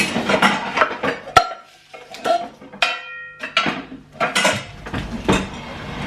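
Metal pans and utensils clatter and scrape in bursts, with a sharp clank and ringing tones between quieter handling noises.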